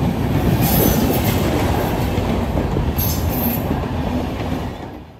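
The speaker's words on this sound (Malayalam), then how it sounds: "10 നിമിഷമാണ് ഈ ട്രെയിനിന് വേണ്ടി നമ്മൾ ഈ ഗേറ്റിൽ കാത്തു കിടക്കേണ്ടി വരുന്നത്" A train passes a railway level crossing gate, loud and close, with a continuous rumble of wheels, clattering wagons and brief high squeals, fading slightly at the end.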